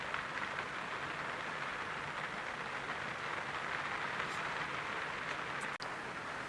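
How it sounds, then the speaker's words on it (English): Heavy rain pours outside as a faint, steady hiss that continues without a break, with a single soft click near the end. "So it's been pouring rain all night long and all morning long."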